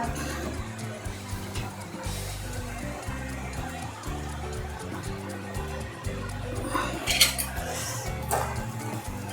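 Veg Hakka noodles with cabbage and spring onion are gently tossed in a pan, giving a steady clatter of metal utensils against the pan over a constant low background hum, with no talking.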